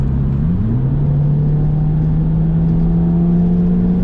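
A 2008 Volkswagen Golf GTI MK5 accelerates with a loud, steady engine drone that rises in pitch, shifts once early on, then climbs smoothly under a rumbling road noise.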